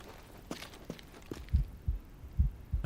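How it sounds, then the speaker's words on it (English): A heartbeat warning cue from the Days Gone video game thumps low and close, pulsing in an even rhythm that grows stronger after a few lighter clicks. "I heard the heartbeat. I actually heard that before I saw him."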